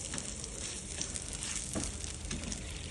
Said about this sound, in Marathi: खोबऱ्याचा खीस, आणि यालाही मस्त परतून घ्यायचं